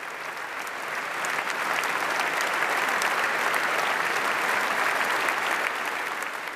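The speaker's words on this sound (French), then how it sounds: "5 très longues minutes d'applaudissements de toute l'Assemblée" A large assembly inside Notre-Dame cathedral, including heads of state, applauds at length. The clapping is a dense, sustained wash that swells in the first second and then holds steady and loud throughout, with no distinct voices.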